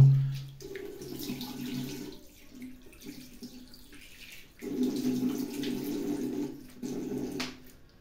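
Running tap water for rinsing after a straight-razor shave, a steady splashing flow that sounds in two longer bursts with quieter gaps between them.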